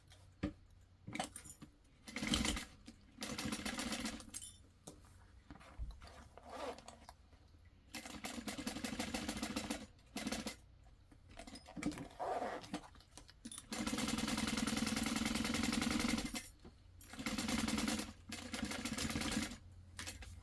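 A sewing machine stitches a fabric bag in a series of short and longer runs separated by pauses, close and fairly steady, with no talking.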